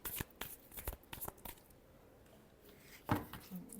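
Tarot cards are shuffled by hand in a quiet room, giving a few crisp riffling bursts and soft slaps near the microphone, separated by a brief pause.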